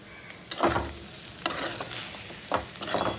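Potato vada filling with salt, sugar and spices being stirred in a pan over a faint sizzle, a few scraping strokes of the spoon coming at irregular intervals, close and clear, no talking.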